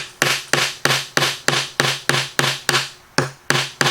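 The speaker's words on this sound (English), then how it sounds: "they will take their hammer and they will blunt the tip." A hammer blunts a nail tip, striking about a dozen times in a steady, brisk rhythm, each sharp close tap ringing briefly before the next.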